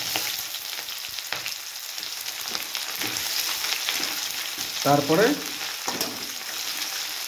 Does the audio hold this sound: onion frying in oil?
yes